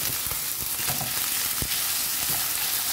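Beef sears in a hot pan for a quick medium-rare cook, with a loud, steady sizzle and a few sharp crackles and pops close by, and no voices.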